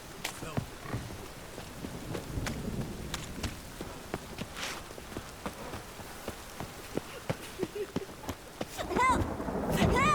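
Rain and rolling thunder from a stormy scene in the video game The Witcher 3, a steady wash of rainfall with brief cracks throughout, mixed with game sounds and some talk.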